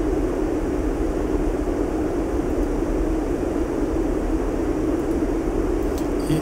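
Steady, broad engine and airflow roar of a PMDG 737-800 airliner descending in a flight simulator game, continuous and even without breaks.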